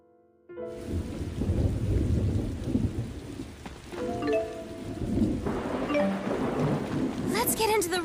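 Thunder rumbles loud and close through steady heavy rain in a stormy scene from the video game Tales of Xillia 2, the downpour continuous with a brighter crack near the end.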